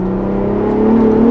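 A 2024 Ford Bronco Raptor's engine burbling as it drives, a loud close low drone that rises slightly in pitch and volume toward the end, with no talking.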